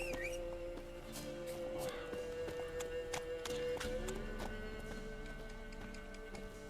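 Geralt's horse Roach from The Witcher 3 video game, its hooves clip-clopping in a steady running rhythm under game music and ambient sound, with faint talk briefly present.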